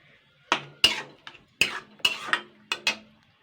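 A metal spatula scrapes and clinks against a pan while kochu loti (taro stolons) is stirred with little water left, about eight distinct close knocks at an irregular rhythm with quiet gaps between them.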